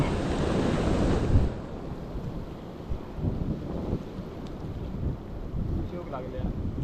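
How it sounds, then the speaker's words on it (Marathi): Sea waves break and wash up on the Konkan shore during monsoon, with a loud surge early on and then softer repeated wash. Wind buffets the microphone throughout. "ही लाट वरती येईलच"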